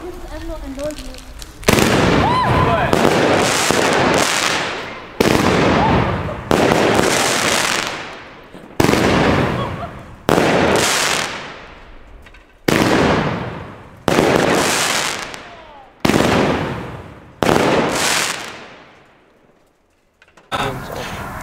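Xplode Heartbeat fireworks battery firing about a dozen sharp, booming shots at an uneven pace, each blast followed by a brief crackling decay, loud and outdoors.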